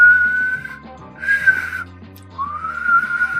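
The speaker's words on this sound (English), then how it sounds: "I often whistle in the night" A person whistles a tune in clear, sustained phrases, three drawn-out whistled notes with short pauses between them, close and alone over a soft low background.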